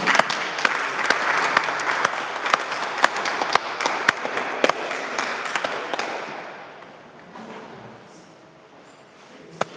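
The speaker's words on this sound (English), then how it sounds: "Give her a clap as she comes." Audience applause fills a church Sunday service as a moderator is welcomed, dense sustained clapping with sharp individual claps standing out, then thinning and fading toward the end.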